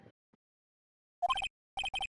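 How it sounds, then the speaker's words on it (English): A cell phone ringtone from the courtroom game Phoenix Wright: Ace Attorney – Justice for All chimes in short bright bursts, a first cluster of beeps and then a second repeated set after a brief pause, in near silence. "I bet it was this ringtone that caused it."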